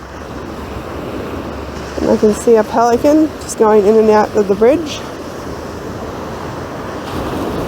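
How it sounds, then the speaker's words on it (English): Ocean waves wash onto the shore in a steady broad roar, heard under someone talking close by for a few seconds in the middle. "that crashing waves into the shore"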